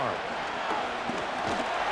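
A stadium crowd in the Madden 25 football video game, Saints at Cowboys, roars as a steady, dense wash of cheering throughout, with faint thuds and voices mixed in.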